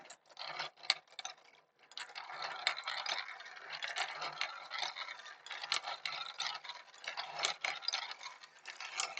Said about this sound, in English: And then I crank the shaft here on the side.